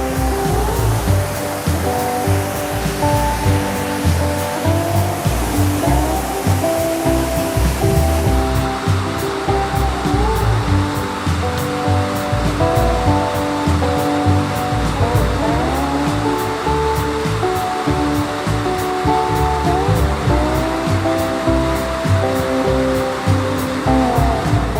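Rushing river water pouring over a natural rock slide in winter high flow, a loud, steady, close roar of churning water that continues unbroken throughout with no talking.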